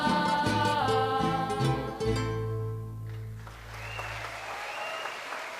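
An audience at a live mariachi performance applauds as the music fades out, with steady clapping rising over the last notes and continuing, moderately loud, in a room.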